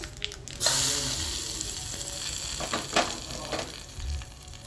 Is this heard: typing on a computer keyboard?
no